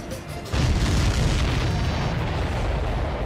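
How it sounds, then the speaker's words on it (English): A huge explosion in the flight combat video game Ace Combat 7: Skies Unknown erupts as a sudden deep boom about half a second in, then rolls on as a loud, sustained rumble to the end. "Did you see that explosion?"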